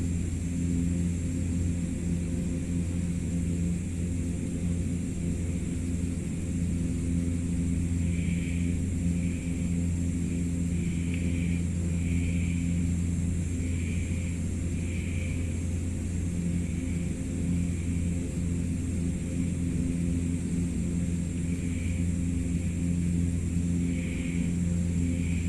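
Canadair CL-415 water bomber engines in the flight simulator MSFS 2024 over Hawaii, a steady low propeller drone with a constant tonal hum throughout, faint higher warbles drifting in and out.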